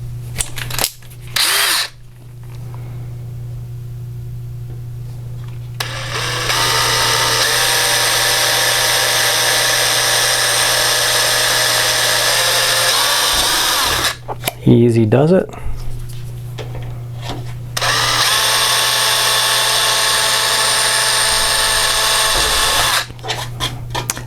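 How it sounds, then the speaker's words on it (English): Power drill boring 1/8 inch mounting holes at both ends of a soft plastic part during a GIME-Z FPGA board install, two long steady whirring runs with a short pause between, a voice speaking briefly in between. "Now I'm going to step up to 1/8 inch and drill the 2 mounting"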